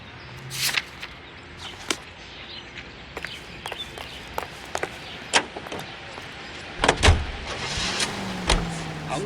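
Car driving in the game L.A. Noire: a low engine rumble under a steady road bed, with scattered clicks and thumps of doors or windows and a few brighter swells near the end.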